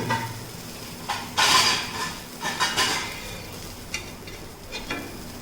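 Ghee roast dosa frying in a hot pan, a soft steady sizzle broken by several louder scraping and stirring bursts from a utensil working beneath the dosa, close by.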